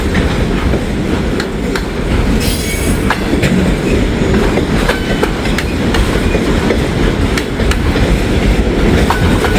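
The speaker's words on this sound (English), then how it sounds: "You can hear the click-clack. That's not welded rail over there. It's a jointed rail." A freight train rolls past on jointed rail, its wheels click-clacking steadily over the joints with a continuous rumble and occasional squeals, loud and close with no talking.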